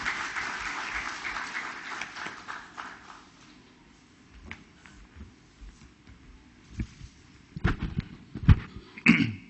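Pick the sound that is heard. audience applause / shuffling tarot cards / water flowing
audience applause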